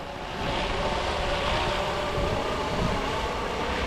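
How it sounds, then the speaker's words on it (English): A model Airwolf radio-controlled helicopter flies overhead with a steady, moderately loud whirring whine and rotor drone that holds evenly throughout, with no talking. "this is the helicopter itself"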